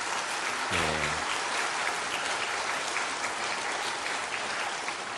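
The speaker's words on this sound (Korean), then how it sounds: "큰 박수로 여러분 환영을 해 주시길 바랍니다" A crowd claps steadily for several seconds, dense and sustained applause filling a church hall during a Sunday service, with a brief voice near the start.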